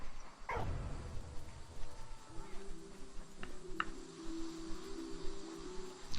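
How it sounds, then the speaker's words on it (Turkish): A dog barks once up close in the video game Valiant Hearts: The Great War, then softer yips and whimpers follow over a steady low background hum. "Ya bu köpek havlıyor orada hava hava."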